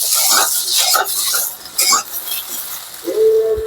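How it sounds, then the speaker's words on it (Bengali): Cut potatoes are stirred while frying in fish oil in a wok, with a spatula scraping and clinking in quick bursts over a soft sizzle, close and fairly loud, ending with a short tonal squeak. "দিয়ে আর ভালো করে নাড়বো, নেড়ে নেড়ে কষাই করে নেব।"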